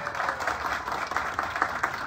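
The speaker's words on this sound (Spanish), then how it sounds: "Y aquí, un aplauso para ella." An outdoor crowd at a street paving inauguration applauds a neighbour, a brief moderate patter of many hands clapping at a steady, slightly uneven rhythm.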